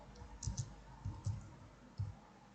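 Light typing on an English computer keyboard, a few soft clustered keystrokes in short bursts, quiet and fairly close, with no talking.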